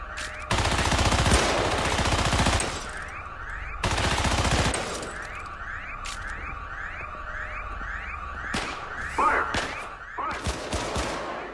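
Defense turrets in the Syndicate video game rattle off rapid automatic gunfire in several loud bursts, with repeated rising electronic whoops in between and short sharp shots near the end.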